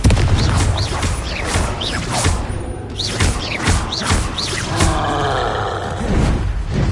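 Confringo blasting curse from a Harry Potter game, fired again and again: a loud run of booming, roaring blasts and heavy thuds, close and overlapping, with no talk.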